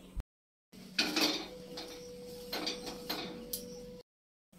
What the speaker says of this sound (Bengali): এগুলোকে একটু আমরা এবার হামলদিস্তায় গুঁড়ো করে নিই